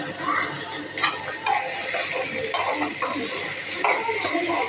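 Grated coconut sautéed in a pan for a mushroom gravy masala and stirred toward golden brown, giving a steady hiss with repeated scraping and clinking spatula strokes throughout, close and moderately loud.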